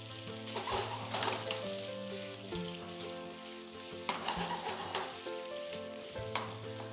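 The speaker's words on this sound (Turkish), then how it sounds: "Evet tavuğumuzu kavuruyoruz." Chicken pieces sizzle and crackle steadily in a hot pan with fried onions and garlic, with background music playing throughout.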